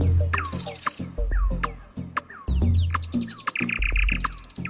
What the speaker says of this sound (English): just like this nightingale, the bird that sings out in the dark